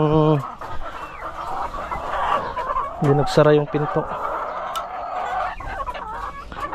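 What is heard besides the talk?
chickens clucking while being fed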